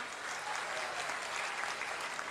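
A crowd at a political rally in Bhatar, Purba Bardhaman claps in welcome for a district president, a steady, dense applause that holds evenly throughout at moderate distance with no speech over it.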